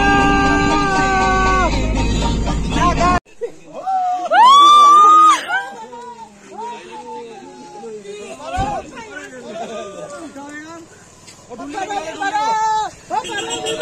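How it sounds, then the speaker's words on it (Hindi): A group of people scream and shout excitedly during heavy snowfall in Dhanaulti, loud overlapping high-pitched cries and chatter following a burst of music at the start. "हम बस चिल्ला रहे थे, मस्ती कर रहे थे"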